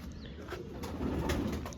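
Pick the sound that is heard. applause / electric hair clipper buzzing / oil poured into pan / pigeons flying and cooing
pigeons flying and cooing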